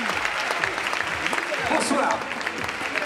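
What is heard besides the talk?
audience applause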